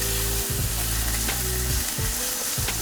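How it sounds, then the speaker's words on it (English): Onion and minced garlic frying in leftover oil from cooked meatballs in a pan, a steady loud sizzle with a low hum and a few dull stirring bumps throughout. "Get a bit of colour into the onions."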